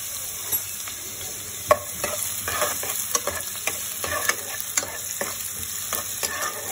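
Finely chopped onion fries in hot oil in a pan, a constant close crackling sizzle with frequent spoon scrapes and stirring clicks, with no talk over it.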